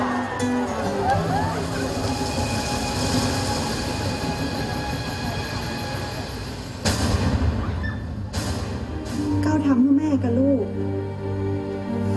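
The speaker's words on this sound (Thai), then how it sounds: "รถราง" A tram running through the streets of Chiang Mai gives off a steady rolling rumble and rail clatter, mixed with voices talking nearby and a louder shift partway through.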